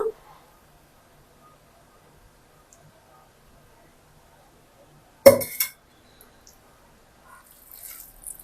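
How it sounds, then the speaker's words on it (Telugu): A metal frying pan, a kadai for frying fish vadas, set down on a stove with one sharp clanking knock of cookware midway, followed by faint rattling and a few soft clinks near the end. "గారెల కోసం మూకుడు స్టవ్ మీద పెట్టుకొని స్టవ్ వెలిగించుకుందాం"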